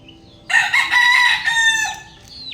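A pumpkin head brood stag rooster crows once, a loud, clear, near cock-a-doodle-doo of about one and a half seconds with a faint cluck afterward over quiet backyard background.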